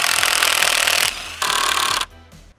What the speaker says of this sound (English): It's always good when the drill runs out of battery.